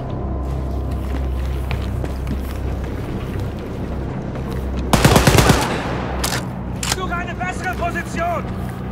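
Gunfire from a weapon in the shooter game Wolfenstein: Youngblood, a short loud burst of rapid shots rising above steady game background noise and music, with further game sounds after it.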